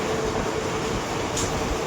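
A passenger train running from Jolarpettai to Erode rolls along steadily, a loud continuous rumble and rattle heard from inside the carriage, with a faint brief higher hiss near the end.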